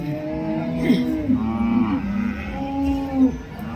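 A Khillar cow at the Sangola cattle market gives a long, loud, close moo that rises and falls in several drawn-out bellows, with faint market voices behind.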